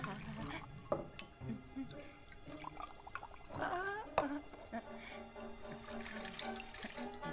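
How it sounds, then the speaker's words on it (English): Liquid potion is poured as an old witch mixes a concoction, a soft trickling and splashing beneath a faint musical background, fairly quiet throughout. "start pouring all the necessary potion"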